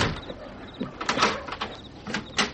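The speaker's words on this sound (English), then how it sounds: "Let me lock the door." An old-time radio drama moment as a house door is locked: a few short metallic clicks and rattles, close by, with scattered small knocks and shuffles, no voices.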